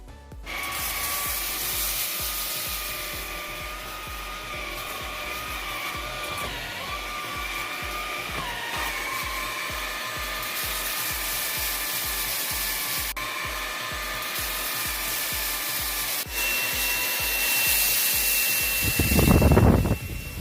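A Xiaomi Dreame V10 cordless vacuum cleaner runs close and loud for about twenty seconds with a steady whirring roar and a high whine. Its pitch shifts slightly partway through, and a louder rushing burst comes near the end.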